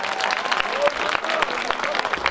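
A festival crowd at Urumsaray breaks into applause, a thick, continuous clatter of many hands with brief voices mixed in, fairly loud throughout.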